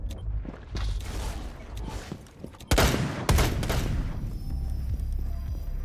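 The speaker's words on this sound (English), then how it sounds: "That was quite a shot, Wallace." Gunfire in the tactical shooter Rainbow Six Siege: scattered distant shots and clatter, then two sharp, loud close-range gunshots a moment apart, followed by lingering ambient noise.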